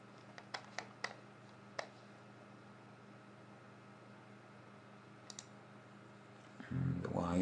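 A computer mouse gives several faint, sharp clicks in quick pairs early on, then an isolated click later over quiet room hiss, ending with a low hum rising at the close.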